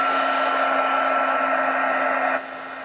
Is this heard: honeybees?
no